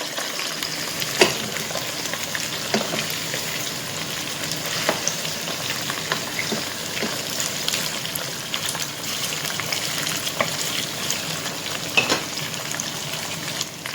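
Onions and garlic frying in a pan for quail kabsa, with a steady close sizzle and occasional stirring scrapes and clicks throughout.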